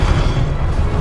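Confringo blasting spell detonating in the video game Hogwarts Legacy, a loud, continuous low boom with a deep rumble that holds for about a second, with no talk.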